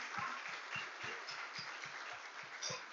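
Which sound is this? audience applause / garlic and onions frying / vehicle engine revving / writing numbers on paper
audience applause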